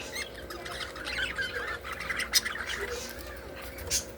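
Caged breeding birds in light cages squawk and chirp almost without pause, with overlapping calls over a steady low background hum. The sound is moderately loud and close, with no clear talk.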